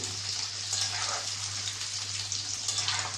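Mango pieces fry in oil for a mango pickle, a steady bubbling hiss and soft crackle close by with a constant low hum beneath, no voices.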